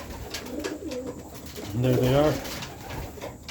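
Pigeons in a loft give a soft, throaty coo that swells briefly in the middle, close by, with a person speaking a few quiet words before it.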